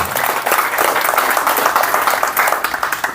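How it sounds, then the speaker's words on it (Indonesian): A crowd at a Pemuda Batak Bersatu youth organization gathering applauds a speech, energetic, slightly uneven clapping from many people that stays loud and close throughout, without anyone speaking. "Tepuk tangan buat Pemuda Batak Bersatu"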